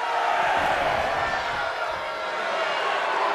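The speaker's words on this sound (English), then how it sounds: "JC Jane is firing up the crowd here." Arena crowd in the WWE 2K24 wrestling game roars and cheers steadily, a dense, continuous wash of fan noise with no clear pauses throughout.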